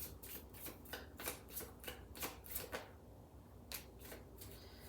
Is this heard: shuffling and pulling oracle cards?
yes